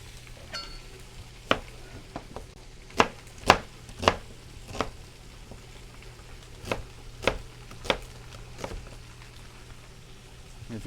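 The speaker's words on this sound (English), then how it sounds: "So we'll start chopping up our vegetables for the pasta." Yellow onions chopped with a knife on a cutting board for cashew cheese pasta: sharp, irregular knife strikes in uneven bursts, close and fairly quiet, with no talking.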